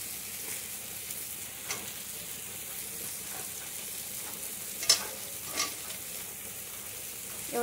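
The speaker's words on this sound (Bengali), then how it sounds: "এবার ভালো করে একটু ভেজে নেবো" Turmeric, chili powder and other spices frying with prawns in a pan for a Bengali prawn dish: soft, steady sizzling with occasional stirring scrapes, fairly quiet, no voices.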